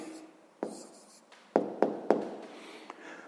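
Pen on paper writing an answer to a sixth-grade maths exercise, with close, distinct taps and short scratching strokes in an irregular rhythm and no talk.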